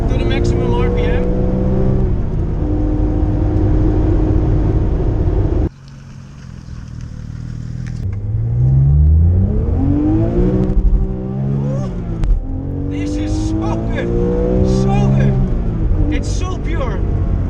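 A Porsche GT3 RS engine revs hard under acceleration through long gears, a loud sustained rising howl that drops briefly at a shift and climbs again; someone talks over it.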